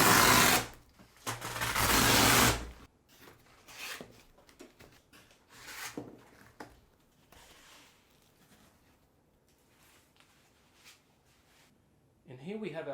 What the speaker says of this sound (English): let's get these Velcro straps off